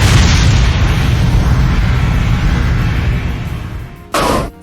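The diabolical fire attack from a battle in the Manamon 2 video game: a loud, sustained roaring, booming rush that gradually fades over about four seconds, then a short sharp burst near the end.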